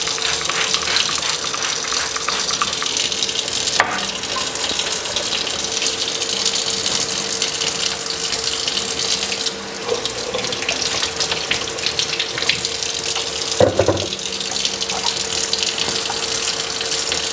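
Apples picked from a tree rinsed under a running kitchen tap, a steady close gush of water for the whole stretch with a few brief knocks and splashes, no talking.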